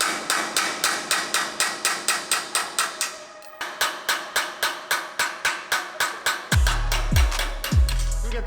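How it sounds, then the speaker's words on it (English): Rapid, evenly spaced hammer blows ring out close by as dowel pins are driven from the frame rails of a 1966 Ford Mustang fastback, with a short pause partway and heavier metallic clanks near the end. "I actually want to go ahead and remove these dowel pins right here."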